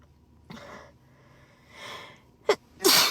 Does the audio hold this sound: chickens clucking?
no